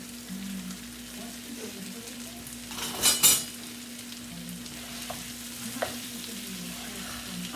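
Ground pork sausage fries quietly in a pan, a low steady sizzle broken by a brief louder burst of stirring and scraping in the middle and a few light clinks.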